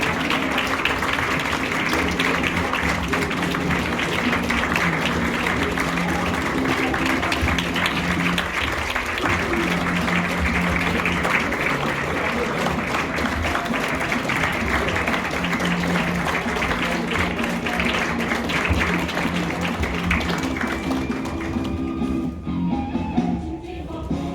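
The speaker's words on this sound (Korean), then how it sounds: "다시 한번 힘찬 박수 부탁드립니다." Applause fills a hall at a union's annual delegates' meeting as officials enter, a steady, dense crowd clapping that carries on for more than twenty seconds before tapering off.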